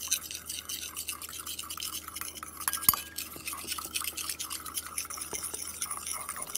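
Galaxy slime and baking soda are stirred together in a bowl, giving soft wet squishes and clicks of the utensil against the bowl, with a sharper clink partway through, close and fairly quiet.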